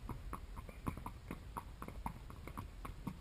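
Hooves of a ridden horse clip-clopping at a steady walking rhythm, a string of soft, fairly distant thuds repeating evenly over a few seconds, quiet overall with no talk.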